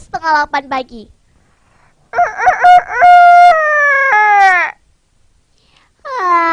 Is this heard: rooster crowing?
yes